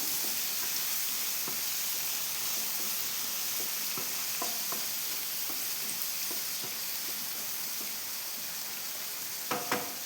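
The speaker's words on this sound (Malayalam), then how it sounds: "അപ്പം നല്ലവണ്ണം ഇളക്കുക" A spoon stirs Kerala-style rasam in a pan on the stove, with a steady sizzle and hiss underneath and light scraping clinks scattered throughout, a few sharper knocks near the end.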